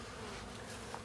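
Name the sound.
honey bees buzzing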